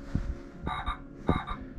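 A big frog croaks outdoors on a fall day trip at Chimney Rock, several loud rasping croaks in irregular bursts, close by, with no talking.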